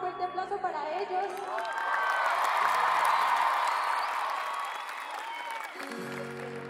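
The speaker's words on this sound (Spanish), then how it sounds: "por favor, un fuerte aplauso para ellos" A stadium concert crowd in Chile on a pop tour cheers and applauds, swelling into a roar mid-way over lingering music, with shouting voices mixed in before it fades.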